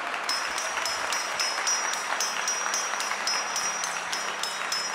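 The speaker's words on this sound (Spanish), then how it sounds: "un aplauso a Pablo" An audience at a Latin American and Caribbean unity gathering claps for Pablo, steady mid-level clapping that runs throughout, while a faint repeating high electronic tone pulses over it.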